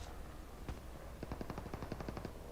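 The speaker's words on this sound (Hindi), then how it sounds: "और गन फाइट के भी साउंड आ रहे थे।" Call of Duty Mobile gunfire: a single shot followed by a rapid automatic burst of about a dozen rounds, faint and distant-sounding, with no voices.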